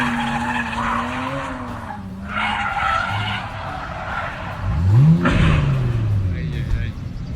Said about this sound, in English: I took it for a spin,